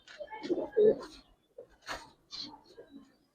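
Giribaz pigeons, a master breeding pair, giving soft low coos in short bursts close by, with a person talking over them.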